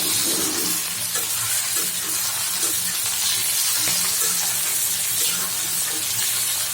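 Leafy greens frying in a pan with onion, garlic and dried chili, a steady loud sizzle with occasional stirring scrapes, close and continuous without talk.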